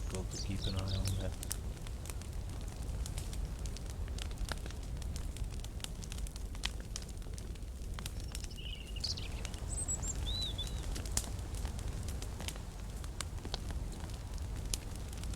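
Campfire crackling in the survival video game Mist Survival, a steady low rush dotted with sharp pops and snaps, with faint bird chirps drifting over it and no voices.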